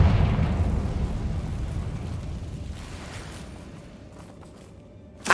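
A Confringo fire-blast spell explodes in the Hogwarts Legacy video game, a loud low rumbling boom that slowly decays over several seconds, with a sharp burst right at the end.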